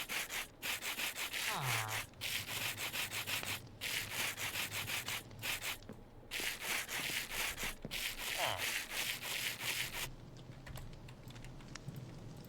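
Repeated scraping rubs of sandpaper on blocks in Minecraft, short sanding strokes in quick succession, close and fairly quiet, with brief gaps between strokes.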